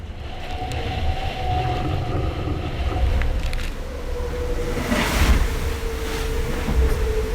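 Loud, constant rushing roar of wind and water aboard a racing sailboat on rough, choppy sea, with rumbling and occasional louder surges and creaks as the boat pounds through the waves.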